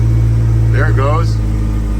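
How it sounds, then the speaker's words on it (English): A 1979 Mustang RS Turbo fitted with a 1986 SVO powertrain idles steadily with a low, even drone while someone talks briefly over it. "And it'll just sit there and idle on its own."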